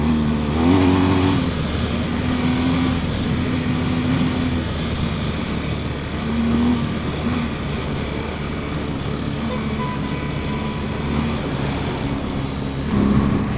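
A BMW 1250 GSA motorcycle accelerates along a dusty coastal road, its exhaust note a steady, close drone that rises and falls through gear changes, mixed with constant wind rush.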